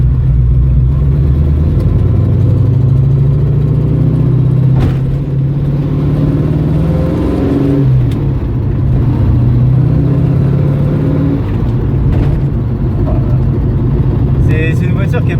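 A 450 hp Shelby GT500 tribute with a 1967 manual gearbox drones and labors at low revs with shifting pitch, someone speaking over the steady rumble from inside the cabin.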